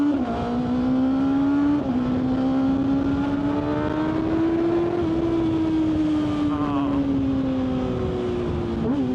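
A 600cc motorcycle cruises around town on a sunny Texas day, its engine droning steadily and loudly throughout, with pitch rising and falling gently as the rider eases on and off the throttle, plus some wind noise.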